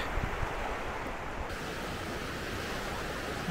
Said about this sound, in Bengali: এই সমুদ্র একদম শান্ত